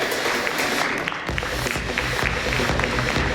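An audience applauds a panel speaker at a corporate discussion, with dense, steady clapping that holds at an even level throughout.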